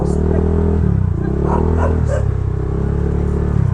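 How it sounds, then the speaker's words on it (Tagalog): Several dogs bark at a Philippine roll-on roll-off ferry port, loud and close amid engine hum, vehicle noise and people talking. "Dami aso? Dami aso."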